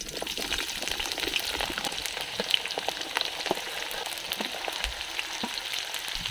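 Onions, capsicum and ginger-garlic paste sizzle in hot oil for chilli pork, a faint, steady crackling fry with small scattered pops and no voices.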